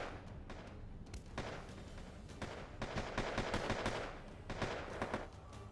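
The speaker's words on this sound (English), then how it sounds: "Some artillery from Pact. They are using Pioneers, the giant 203mm artillery." Dense, rapid bursts of gunfire and heavy booming from the video game Wargame Airland Battle, including fire from four giant 203mm Pioneer artillery guns, rolling on almost continuously at moderate loudness with no talk.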